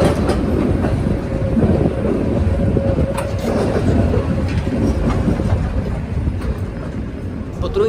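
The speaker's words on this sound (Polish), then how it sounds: "Potrójniak to jest potrójny skład typu 805NA." A Konstal 805Na triple-car tram runs on rails in Łódź, giving a loud, close, continuous rumble with steady wheel-on-rail clatter throughout.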